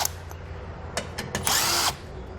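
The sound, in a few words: power tool removing under shield bolts with 10mm socket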